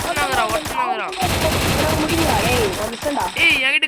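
Gunfire in the video game Free Fire, including scoped shooting: rapid sharp shots in short bursts under excited talk between players.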